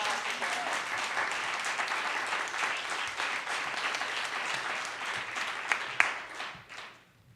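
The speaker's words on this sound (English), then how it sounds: "Let's give him a round of applause" At a poetry recitation award ceremony the audience breaks into sustained applause, a full, even clatter of many hands that carries on for several seconds before tapering off and stopping at the end.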